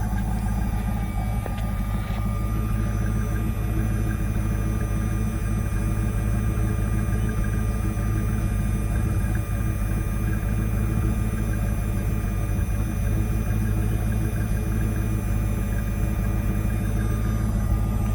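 A 1995 Ford Mustang GT SN95 with a 5.0 V8 on stock exhaust idling after a cold start, a steady, loud, low rumble that holds even throughout with a faint buzz above it and no voices.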